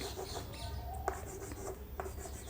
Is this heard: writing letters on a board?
yes